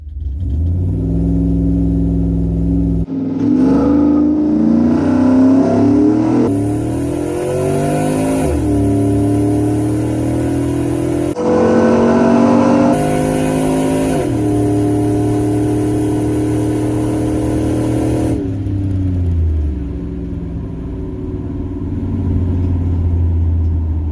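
A cammed Chevrolet Silverado regular cab short bed with 4.10 gears runs a quarter mile at wide open throttle, its loud engine climbing through several gear shifts in rising and falling sweeps before easing off.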